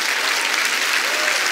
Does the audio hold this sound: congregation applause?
yes